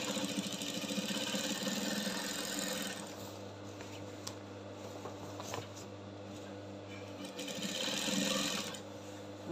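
A sewing machine stitches embroidered kaftan fabric with a steady, close mechanical whir that eases off in the middle and builds again toward the end. Faint rubbing and handling sounds run underneath, and nobody talks.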